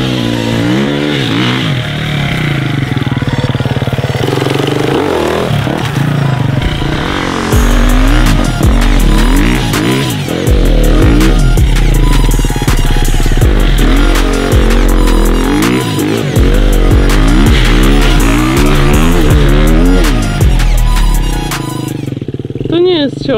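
A KTM 250 EXC-F motorcycle engine revs hard while being ridden, with repeated rising and falling throttle bursts that are loud and close, steady and continuous for about 23 seconds.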